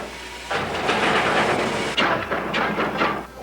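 A train climbing Shasta Grade with its wheels slipping on the tracks: a loud, broad hissing rumble that runs steadily, broken by several sharp surging bursts near the end.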